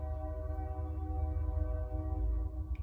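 A train horn sounds as a long, steady, moderately distant tone held throughout over a low rumbling background, with no talking.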